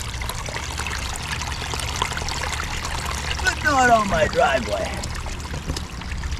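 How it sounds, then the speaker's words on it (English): Rainwater from heavy downpours trickles and splashes down a small waterfall cut into a trench by a driveway, a steady close pouring under a low rumble, while someone talks briefly. "I have myself a little waterfall,"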